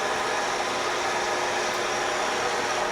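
Machine slowly cutting a power plant generator impeller at 250 RPM, a steady broadband whirring hiss with a faint low rumble, unchanging for the whole stretch.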